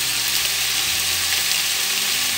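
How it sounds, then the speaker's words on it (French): Mushrooms and potatoes for a Savoyard omelette fry in a pan with a steady, close hiss of sizzling fat, continuous and even throughout. "Donc, je laisse encore cuire."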